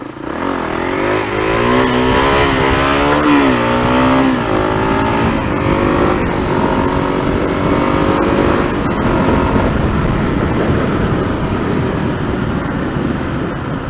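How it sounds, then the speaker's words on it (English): A KLR motorcycle engine roars loud and close as the rider pulls a wheelie, revs climbing and holding steady under rushing wind noise, with no talking. "this is probably a wheelie"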